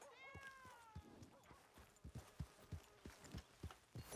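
A cat meows in the Red Dead Redemption video game, a soft drawn-out mew heard over a steady rhythm of horse hooves clip-clopping at walking pace, quiet and fairly close.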